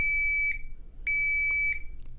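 A steady high electronic buzzer tone pulsing in slow, evenly spaced beeps, loud and close, with brief gaps between long tones.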